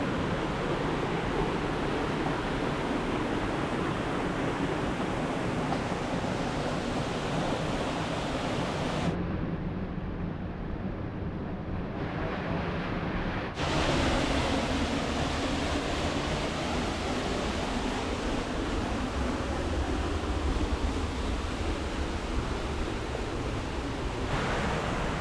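Waterfall at the third falls of a forest trail, a steady broadband roar of rushing water filling the scene, continuous and fairly loud with no voices over it.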